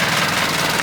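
Small petrol engine on a camping setup running steadily just after a cold start with the choke taken off, a loud, close, rough rattling drone with no talk over it.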